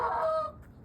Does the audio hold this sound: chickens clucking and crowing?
yes